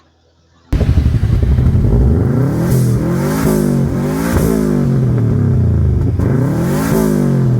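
A car engine fires up after a jump start and is revved repeatedly, with loud rising and falling surges that follow a moment of silence.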